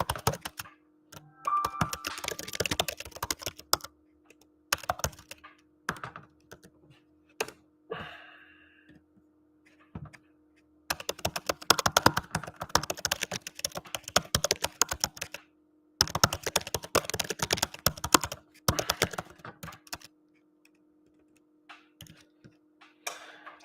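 Keyboard typing during a live-streamed session of calling sales leads, heard as bursts of close, rapid key clicks separated by short silences, with a faint steady hum underneath.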